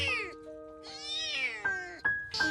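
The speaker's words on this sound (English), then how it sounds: "I discovered a kitten crying and begging for help from passerby" A kitten on a bridge crying, giving several loud, drawn-out, pleading meows in quick succession, close by and heard alone.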